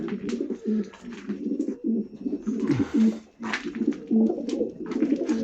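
Steady low cooing of several pigeons, overlapping soft rhythmic coos, with occasional wing flutters and rustling nearby.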